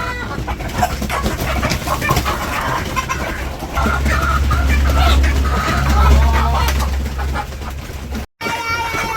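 Chickens clucking as they eat in a Bangladeshi village yard, steady soft clucks and fowl calls close by, with a low background hum and a brief cut near the end.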